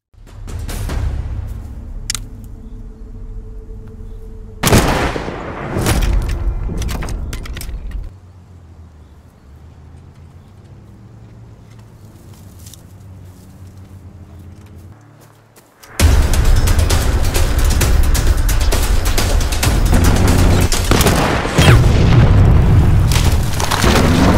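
Mortar shells blast a bridge on a World War II battlefield, with a heavy boom near five seconds, a lull of low rumble, then a loud sustained roar of explosion and debris from sixteen seconds onward.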